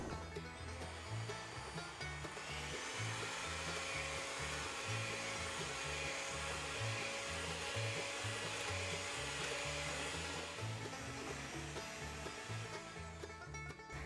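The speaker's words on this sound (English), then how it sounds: "you want to whip it up until soft peaks are formed. I'm going to use the whisk attachment." An electric mixer with a whisk attachment whips heavy cream, a steady loud motor whir with a faint rhythmic beating underneath, running continuously and alone.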